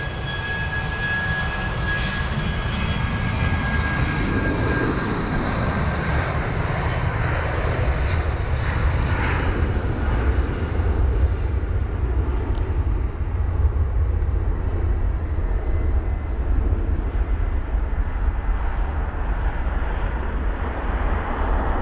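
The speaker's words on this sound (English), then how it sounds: "It's going to be BA446 heading to Amsterdam, the A319 with the reg Golf Delta Bravo Charlie Kilo" A British Airways Airbus A319 jet airliner moves at London Heathrow, its engines giving a steady, loud roar and rumble that holds throughout with a faint whine on top and no voices.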